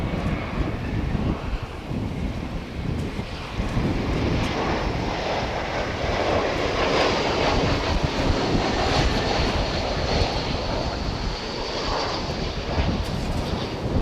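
An aircraft on the ground at DFW Airport gives a moderate, steady engine rumble and whine, mixed with gusty wind buffeting, continuous and fairly distant, without speech.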